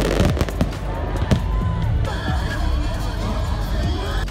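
Fireworks bursting at a busy fireworks night event on a university campus, with dense crackling pops and bangs over a steady crowd murmur.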